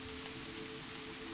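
Soft, steady rain falls at night on a forest path and rain-soaked ground dotted with small puddles, a faint, even hiss with a low hum beneath it and no voices.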